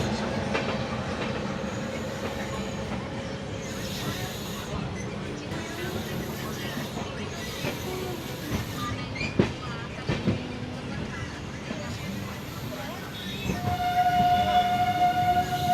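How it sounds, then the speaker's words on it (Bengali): A train pulls out of Kamakhya Junction in Assam on a Kolkata to Guwahati run, heard from on board as a steady rumble of wheels and carriages with rhythmic clatter, rising louder toward the end, with no talking. "দেখো কামাখ্যা জাংশন ছাড়লো আমাদের ট্রেন।"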